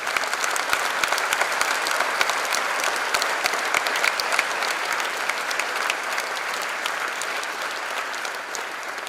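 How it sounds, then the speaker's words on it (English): A large audience at a college freshers' induction program applauds parents, dense continuous clapping filling the hall at steady loudness for several seconds, easing slightly toward the end. "Give a big applause to your parents for their sacrifice."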